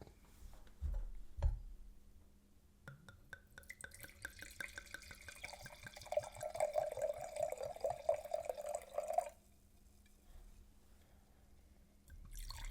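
Wine poured into a glass, a quiet trickling stream that starts faintly, builds into a gurgling pour with a rising tone for several seconds, then stops abruptly.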